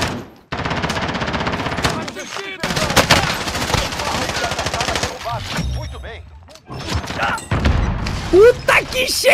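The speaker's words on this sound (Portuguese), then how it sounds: "Eles estão trocando tiro" Rapid bursts of automatic gunfire from Call of Duty: Warzone, loud and dense, with people talking excitedly over the shooting.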